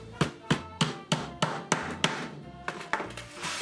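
Hammer blows on wooden cat lounge parts being fitted together, about a dozen sharp, evenly spaced knocks close by, with a short pause before the last few strikes.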